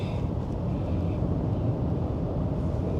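Cabin of an Audi A6 C8 cruising at 100 km/h, a steady low road and tire rumble with a soft wind hush, constant and even, with no voices.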